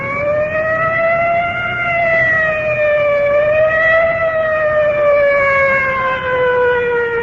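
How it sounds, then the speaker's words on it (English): A fire department inhalator squad siren wails steadily and loudly, its tone rising and falling slowly in long sweeps with no talk over it. "I can hear the wail of the siren of our fire department inhalator"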